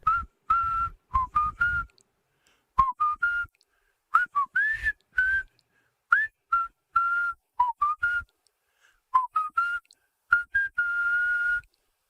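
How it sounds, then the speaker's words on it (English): Someone whistles close into a microphone in short tuneful bursts, rising and falling notes in quick phrases with brief silent gaps between them, loud and clear with nothing else behind. "Whistling is back on the menu."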